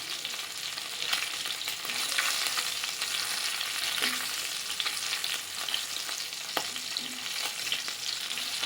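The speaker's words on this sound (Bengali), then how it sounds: "মাছটা ভালোই ভাজা হয়ে গেছে" Hilsa fish fries in hot oil in a pan, giving a steady, close, even sizzle with a few faint clinks and scrapes.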